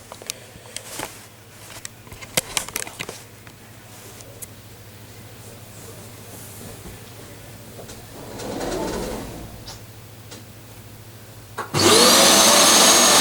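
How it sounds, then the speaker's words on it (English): A desktop computer being dusted off, with scattered clicks and handling knocks under a low steady hum, then a loud burst of blowing air near the end that drowns everything else out. "So I'll just quickly put the camera here as I dust off my computer."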